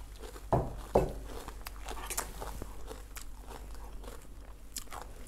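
Crispy pork rinds crunch in two loud, sharp bites near the start, followed by quieter chewing and crackling close to the mouth, with no talking.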